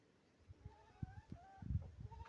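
A broody hen clucks softly in short, low bursts as she gets up to eat, fairly quiet amid faint outdoor background.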